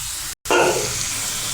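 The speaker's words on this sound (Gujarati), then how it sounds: "આપણે એ જ પ્રમાણે બધી ચિપ્સને તળી લઈશું" Sliced potato chips fry in hot oil, giving a bright, close sizzle that swells after a brief gap and then settles into a steady hiss.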